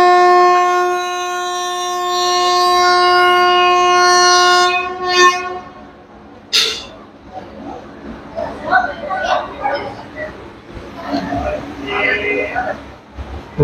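A passenger train on the Kolkata–Digha line sounds a long, loud, sustained horn, then rumbles and clatters past nearby, with someone talking over the running noise.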